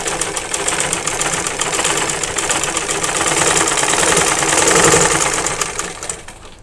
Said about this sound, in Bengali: ঠিক এইভাবে করে নিয়ে তারপর আপনার সেলাইটা করা লাগবে।